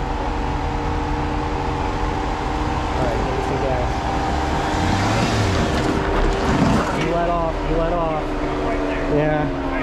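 A car engine idles, then revs up and drops back in a couple of rising surges as the driver gives it gas. People talk nearby over the running motor.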